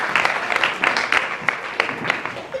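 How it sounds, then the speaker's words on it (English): An audience applauds a performer at a charity talent show fundraiser, a steady dense round of clapping with sharper claps standing out, fairly close and continuous throughout. "Let's give her another round of applause."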